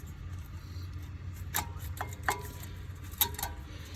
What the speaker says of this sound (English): And now you can pull the pads off.